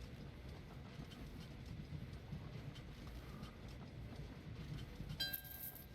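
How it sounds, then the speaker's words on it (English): A train in the Train Valley 2 railway puzzle game rolls past as a faint, steady rumble with soft clatter, ending with a short bright chime. "Now the train's gone past"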